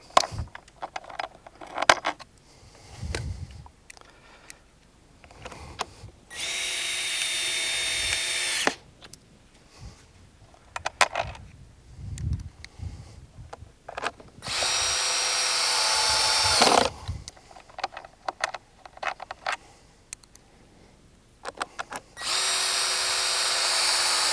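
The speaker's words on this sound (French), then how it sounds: "Et je vais visser le module du haut sur le module du bas." Power drill driving screws to join wooden stair modules, heard in several loud whirring bursts of a few seconds each, separated by quieter handling, scraping and clicking.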